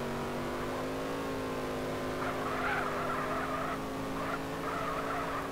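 A BMW car in the GTA San Andreas video game skids continuously with screeching tires over a steady engine drone, with the squeal swelling in repeated bursts midway through.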